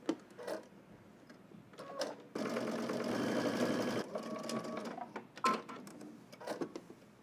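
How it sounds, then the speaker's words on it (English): A sewing machine stitches a jacket seam in a quiet room. It runs in one sustained burst of rapid mechanical whirring, with short starts and handling clicks before and after. "we're going to head to the machine and we're just going to stitch this down from dot to dot"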